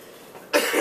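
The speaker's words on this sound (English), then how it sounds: "Okay, the cough is still lingering." A single short, harsh cough from a man with a lingering cough bursts out close and loud after a brief quiet moment indoors.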